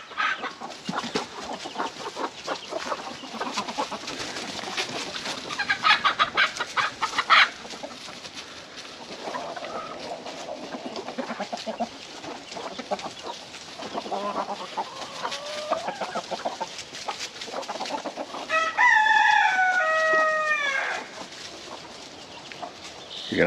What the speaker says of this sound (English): Still got 3 little chickens.